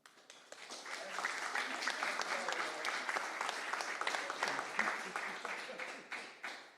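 A crowd at a Greater Baton Rouge State Fair press conference applauds in a dense, sustained burst of clapping that swells quickly, holds steady for several seconds, then begins to taper off.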